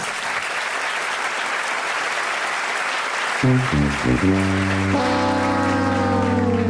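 A crowd claps steadily for a few seconds, then the applause gives way to a bright, sustained musical chord and melody.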